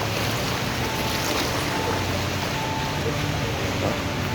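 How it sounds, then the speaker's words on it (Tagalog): Water pumps drawing up floodwater in a flooded area of the UAE where a vehicle sits submerged, heard as a steady, loud broadband rush and drone with faint tonal whine throughout. "So may mga water pump dito, no? Sinusuyop yung tubig."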